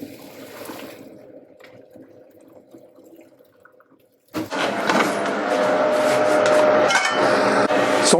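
Cooked spaghetti water poured out to drain after a quiet stretch of low kitchen hum, breaking into a loud, sustained rushing splash that lasts about four seconds close by.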